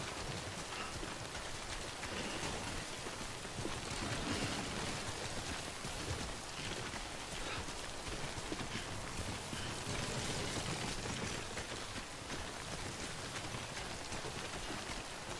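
Steady, dense rain falls throughout a scene in the video game Death Stranding, a constant loud hiss of drops with no talking or other distinct sounds.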